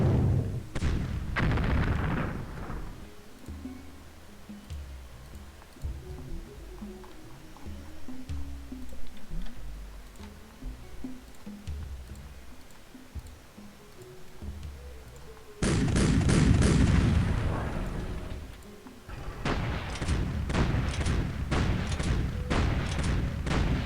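A StuG assault gun firing in the World War II scenario of Civilization III, loud booming artillery shots with heavy thuds, first a cluster of blasts, then a quieter rumbling stretch, and later further loud volleys.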